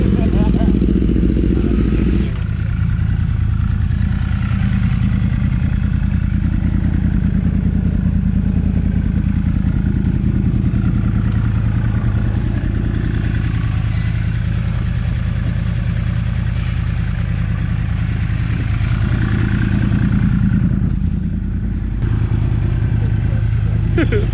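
A rebuilt 2013 Yamaha R1 sport bike runs loud and close during a ride, its engine holding a steady drone with brief dips and rises in revs, while people talk over it.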